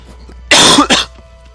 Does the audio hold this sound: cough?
yes